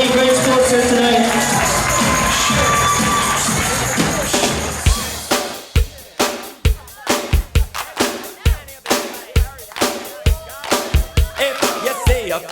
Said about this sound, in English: let's give these guys a round of applause for being great sports here tonight